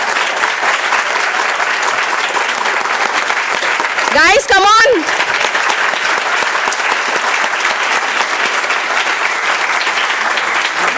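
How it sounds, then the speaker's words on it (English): Audience at a public endowment award lecture gives steady, sustained applause for the full stretch, close and loud, while a voice briefly calls out to the crowd midway. "I would request everyone to give a round of applause and see what is the energy here."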